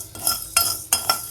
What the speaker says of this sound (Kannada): ಒಂದು ಸ್ವಲ್ಪ ಉಪ್ಪನ್ನ ಡ್ರೈ ಫ್ರೈ ಮಾಡ್ಕೊತಾ ಇದ್ದೀನಿ